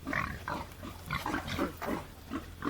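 Pigs being coaxed on moving day grunt and oink repeatedly in a steady run of short calls, close by, with no talk over them.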